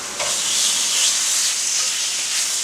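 Filet mignon sears in a hot pan, a close, steady hissing sizzle that rises sharply at the start and holds evenly, no voices.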